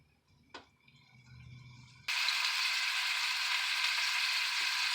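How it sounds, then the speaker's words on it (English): A faint, quiet stretch, then abruptly the loud, steady hiss and crackle of ground beef sizzling in a hot pan, continuing evenly to the end. "that meat is sizzling, doing its little job"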